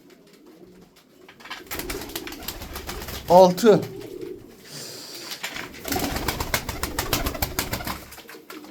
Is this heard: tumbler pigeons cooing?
yes